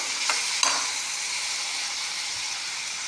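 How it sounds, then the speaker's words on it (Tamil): Tomatoes and coriander leaves sauté in a pan for a cauliflower egg masala fry, giving a steady close sizzle with a few soft stirring scrapes near the start and no voices. "இப்போது அடுத்தது நல்லா வதங்கட்டும்"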